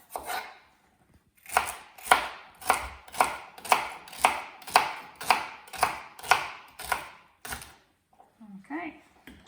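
A knife chops celery on a cutting board for curried celery soup, with about a dozen crisp, evenly spaced strokes in a steady rhythm, close and loud, then a short pause and faint handling.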